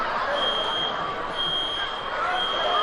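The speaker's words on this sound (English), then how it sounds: "somebody pulls the fire alarm" Fire alarm sounding in a gymnasium during a high school basketball game: a shrill, repeating high-pitched beep tone cycling over constant crowd murmur and echoing hall noise.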